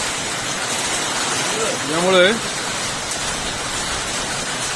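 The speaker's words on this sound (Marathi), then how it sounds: "प्रचंड पाऊस सुरू झालेला आहे." Heavy afternoon rain in Kerala makes a steady, dense hiss throughout, and a voice speaks briefly over it partway through.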